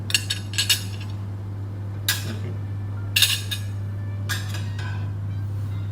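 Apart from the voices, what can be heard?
cutlery being arranged on a plate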